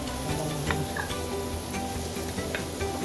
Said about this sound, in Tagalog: Gigisa lang muna natin siya.